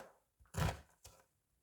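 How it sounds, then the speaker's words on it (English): A knife dices a red onion on a cutting board, giving a few near, dull chopping thunks: one heavier cluster and a softer single strike, with quiet between them. "Well, Toby, we finished dicing up the onion."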